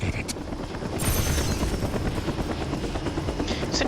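The helicopter Decepticon Grindor in the video game Transformers: Revenge of the Fallen makes a loud, close, continuous rotor chop, a rapid steady beating that swells slightly and runs for the whole stretch with no talk.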